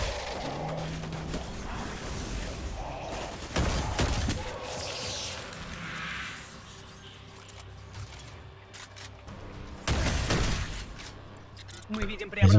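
Gunfire in the video game Destiny 2, with weapons firing double shots, comes as loud clustered bursts near 3.5 s and 10 s. Scattered game effects fill the gaps, and someone talks over the whole stretch.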